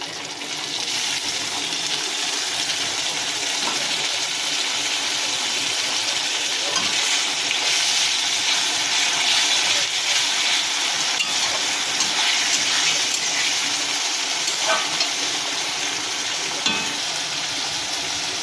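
Onions and ginger-garlic paste for a meat curry fry in hot oil, giving a steady, loud, broadband sizzle that holds for the whole stretch with occasional stirring scrapes and no talking.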